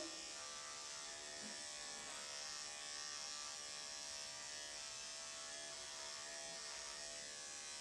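Electric dog grooming clippers with a ceramic 10 blade buzz steadily and closely for the whole stretch, a constant even hum with no talk.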